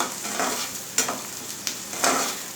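Onion frying in a pan with salt and chili, a steady close sizzle with a few sharp scraping stirs of a spatula breaking through, no voices.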